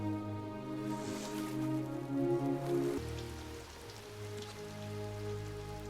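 Steady rain patters over a surface, continuous and moderately loud, with a sustained tonal hum running underneath.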